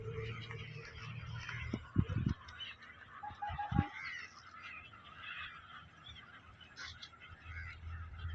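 A flock of birds such as geese calls at a wetland in Chennai, with scattered honks and a few louder close calls over a steady murmur of distant bird chatter.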